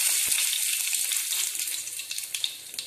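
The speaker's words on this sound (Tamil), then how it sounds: "இப்போ நம்ம எடுத்து வச்சிருந்த கடுகு வெந்தயம் சீரகம் எல்லாத்தையும் போட்டு தாளிச்சிடலாம்." Mustard seeds, fenugreek, cumin and curry leaves tempering in hot oil for a traditional fish kuzhambu: a steady bright sizzle with scattered pops and crackles that thin out toward the end.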